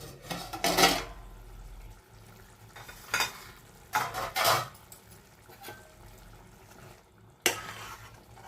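Several separate clanks and scrapes of metal cookware come from a pan of spicy prawn curry as a lid is handled and set on, each burst short and fairly close, over a faint steady background.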